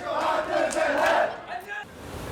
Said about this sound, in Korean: 호기 넘치는 신입생들의 함성에 집으로 가는 길은 늘 시끌벅적합니다.